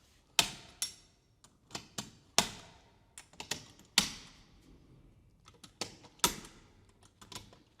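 Sharp metallic clicks from a torque wrench tightening studs on a six-inch stainless steel boltless tank fitting, a dozen or so crisp clicks at irregular intervals, close and clear against near silence.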